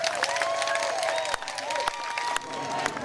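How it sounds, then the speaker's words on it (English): A studio audience on an Australian current-affairs program gives a round of applause, a busy clatter of clapping mixed with crowd noise and some voices, with a few sharp knocks standing out. "Give him a big round of applause."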